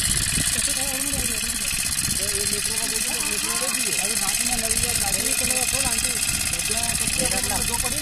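A generator engine, the motor of a pesticide sprayer, runs with a steady mechanical drone under continuous outdoor talking, loud and close throughout.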